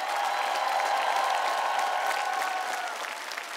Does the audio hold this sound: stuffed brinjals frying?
no